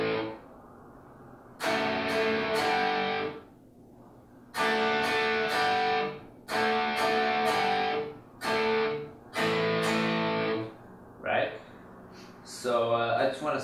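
Electric guitar plays a chord progression slowly, with distorted strummed chords ringing in separate bursts and pauses between them, ending on a few quicker strums.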